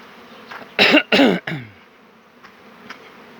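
Honeybees from an apiary set among sunflowers drone steadily around crowded hive entrances, a continuous close hum interrupted by a few loud coughs or throat-clearing bursts.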